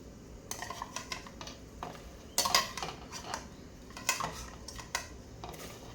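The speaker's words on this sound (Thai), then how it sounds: "ใส่ลงไปเลยค่ะ ปลาดุกค่ะ ย่างไว้แล้ว ใส่ลงไปเลยค่ะ" Grilled catfish going into a pot of Isan-style glass noodle curry: light clinks, taps and scrapes of a utensil against the pot, with one louder clatter midway and no voices.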